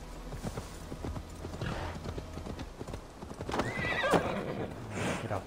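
In Assassin's Creed Valhalla, a horse's hooves clip-clop in a quick, steady rhythm, and a loud whinny rises near the end, all at close range.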